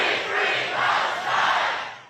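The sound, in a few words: crowd of war protesters outside the Capitol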